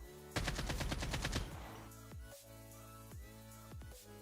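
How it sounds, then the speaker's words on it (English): An AK-47 in Call of Duty Mobile, fired without a stabilizer mod, lets off a rapid burst of about ten loud shots over a second, followed by a few scattered single shots and mechanical clicks. "we'll see the recoil pattern of my AK-47 without the stabilizer mod"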